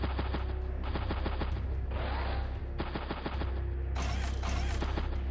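Artillery and tank cannon fire in the strategy video game Advance Wars: Days of Ruin, several booming shots and rattling bursts in quick succession over a steady game-music bed, loud and continuous, no talking.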